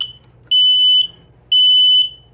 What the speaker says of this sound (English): this is the smoke detector and carbon, you can see it. And then I press it to test it.